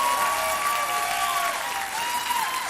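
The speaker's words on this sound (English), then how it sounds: "How about a round of applause for the Marching Eagles" A gala audience at the Silver Pigskin Gala applauds the Marching Eagles band with a broad wash of crowd clapping, while a whistle or sustained voice rises and falls above it.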